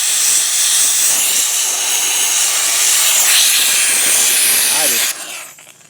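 A Wagner Spraytech SteamMachine steam cleaner (AutoRight C900054.M) blasts grease with a loud, steady, close hiss that cuts off abruptly near the end, leaving faint noise.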